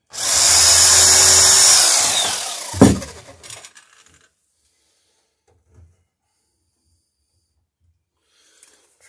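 A power drill bores into a rail, a loud steady whine for about two and a half seconds that stops with a sharp knock, then near silence apart from a few faint taps.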